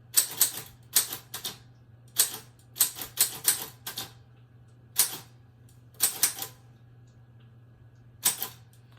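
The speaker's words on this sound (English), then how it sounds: "So I'm gonna type that up here real quick." Bursts of typing on a keyboard, short clusters of crisp key taps separated by pauses, close and clear over a faint steady hum.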